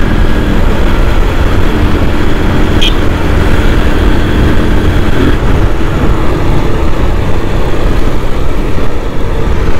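Motorbike engine droning steadily while being ridden on a road at reduced speed, a loud continuous low rumble mixed with wind noise and no breaks.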